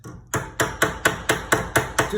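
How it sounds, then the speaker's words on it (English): A hammer taps a metal door latch plate edge to flatten it, nine or so sharp, evenly spaced metallic strikes in a quick steady rhythm, close and alone. "I'm gonna just take my hammer"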